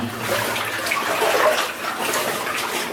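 Water sloshes and splashes continuously as someone wades knee-deep through a flooded old gold mine, a close, steady churning rush.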